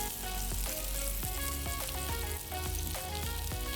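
Kunafa dough sizzling steadily in melted butter in a pan, a dense continuous frying hiss with a few soft scraping stirs, close and loud, no talking.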